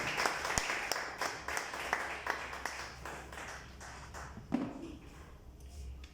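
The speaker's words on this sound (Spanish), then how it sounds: "Denle un aplauso fuerte." A church congregation claps in loud applause at an evening service, a dense patter of hands that fades slightly toward the end while a voice briefly speaks over it.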